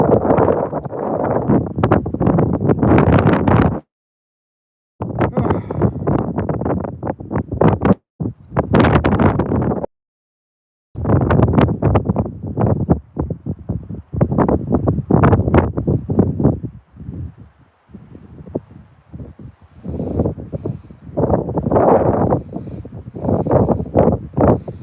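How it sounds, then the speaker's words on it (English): Strong wind gusts outdoors at a trout fishing spot, loud broadband buffeting that comes in heavy bursts with a few brief dropouts and a calmer stretch near the end. "The wind is terrible today, you guys."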